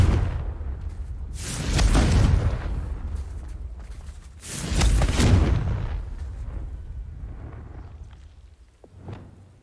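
Two heavy, booming blasts from the Confringo spell in Hogwarts Legacy, each a loud explosion that rumbles and fades, followed by a smaller late pop near the end.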